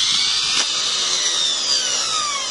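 A car starter motor bench-tested by bridging its two posts with a screwdriver spins with a loud, steady high-pitched electric whine, its Bendix gear engaged, then ends in a sharp clack.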